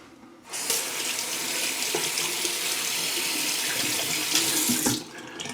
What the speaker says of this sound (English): I like to rinse off the pucks.